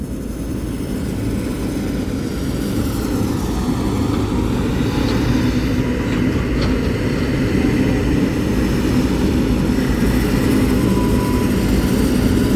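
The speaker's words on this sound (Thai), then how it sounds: "เร่งเครื่องอย่างแรงอะ" Heavy mining haul truck, normally run on mine sites, hauling soil with its engine revving hard; a steady, loud, low diesel roar runs unbroken throughout at close range, with no talking.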